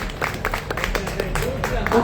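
Scattered hand claps from an audience honouring domestic workers, an irregular patter of applause mixed with voices talking over it.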